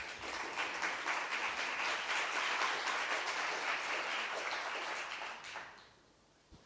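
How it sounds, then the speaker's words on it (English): Audience applause at a business and nature summit, a steady dense clapping that holds moderately loud for about five seconds, then fades out abruptly into near silence. "some applause for our guests here."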